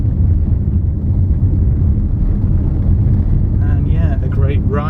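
Inside a new SsangYong Korando on the move: a steady, loud low rumble of road and wind noise fills the cabin from start to finish, with a voice briefly audible near the end.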